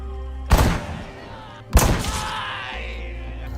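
Two sharp, heavy sniper rifle shots in a war film crack out about a second apart, each with a booming low impact and a long rumbling tail fading away.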